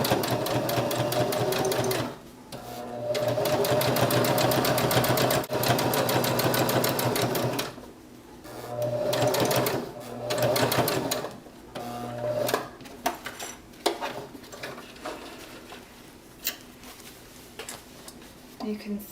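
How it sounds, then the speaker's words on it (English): A sewing machine top stitches with white thread along the edge of a zippered fabric pouch. It runs in steady, close, busy bursts with short pauses between them, and there is a little light handling noise near the end. "you can top stitch over this top right along the edge"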